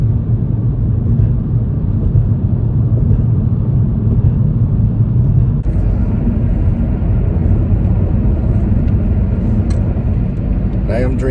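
Steady early-morning road traffic at about half past four, a continuous low rumble of passing vehicles with occasional higher swells, loud and constant throughout.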